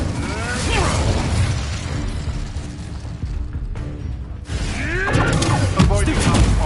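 Incendio fire spell cast in Hogwarts Legacy, a loud roaring, crackling burst of flame with mechanical clatter, dipping briefly mid-way then surging again, with a voice talking over it.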